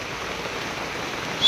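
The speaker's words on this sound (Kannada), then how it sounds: "ನೋಡ್ರಿ ಫ್ರೆಂಡ್ಸ್, ಮಳೆ ಎಷ್ಟು ಜೋರ ಐತೆ ಹೋಗ್ರಿ." Heavy rain pours steadily outside a small sugar shop, a dense even hiss throughout with no voices, rising slightly louder at the very end.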